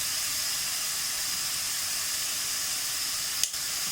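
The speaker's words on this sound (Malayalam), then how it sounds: "ഇതിലേക്ക് നമുക്ക് ഈ അരിഞ്ഞു വെച്ചിരിക്കുന്ന സവാള ഇട്ട് വഴറ്റി കൊടുക്കാം" Chopped onions sauté in a hot pan for a paneer vegetable curry, a steady close-up hiss and sizzle that stays even throughout, with one brief clatter near the end.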